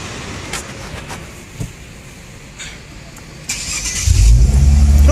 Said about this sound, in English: So we're about to get a proper cold start of this thing.